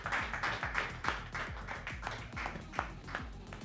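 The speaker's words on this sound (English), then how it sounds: "your grades are dependent on how loud you clap for Gerhard Schleiman" A crowd claps at a comedy show for a performer named Gerhard Schleiman, a dense, steady spatter of many hands with a few sharper individual claps and a low rhythmic thumping underneath.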